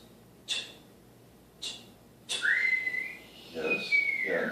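A sharp rising whistle blown after a few short breathy puffs, one long clear note that slides and wavers before fading, close and fairly loud over a quiet background.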